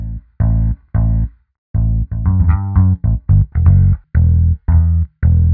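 Fender bass guitar heard through a free Kontakt Blueprint sample library, plucking a loud, close line of low notes: steady held tones broken by a quick flurry of shorter notes, each with a clear attack and clean stop, with no voices.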